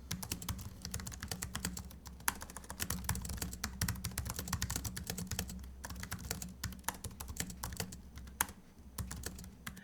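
Rattly clatter of fast typing on the backlit mechanical keyboard of an Intel NUC X15 gaming laptop, a steady stream of close key clicks and thocks with occasional louder strikes, no talking.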